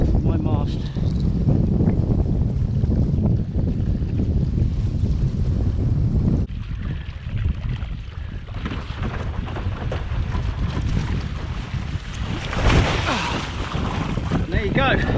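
A windfoil board and sail skimming over the water off Southend on a windy day, a loud rushing wash of wind buffeting the microphone and water hiss, with a sudden drop and swell partway through.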